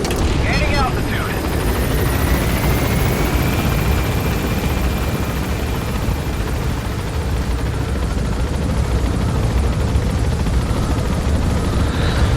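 A helicopter in the Metal Gear Solid V game climbs in a loud, steady rotor roar that fills the scene throughout, with a faint rising whine early on.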